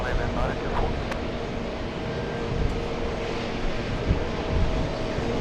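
A Scandinavian airliner takes off from runway 31 left at JFK airport, with a deep, steady jet engine roar rumbling from a distance under wind noise throughout.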